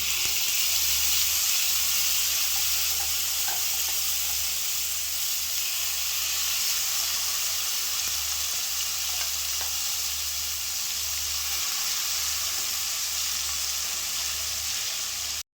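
Ground vallarai (pennywort) paste fries in oil with popped mustard seeds for pickle, a loud continuous sizzle and hiss close by with occasional stirring scrapes and no talking.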